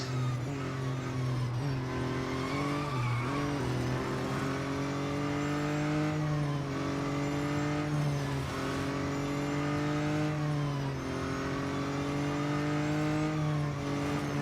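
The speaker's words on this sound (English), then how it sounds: "I can't get over the whininess of the engine though." Steady high-pitched whine of a race car engine in the Real Racing 3 mobile racing game, loud and continuous, with pitch shifts as it accelerates and lifts through corners during a race.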